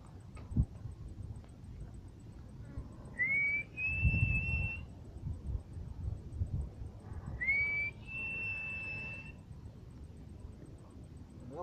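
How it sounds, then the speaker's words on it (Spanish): Two long whistled phrases of Silbo Gomero, the whistled speech of La Gomera, each a rising then level pitch held for about two seconds, clear and moderately loud, with low murmuring voices and room noise beneath and between them. "Ahora, habla silbando, haga distancia"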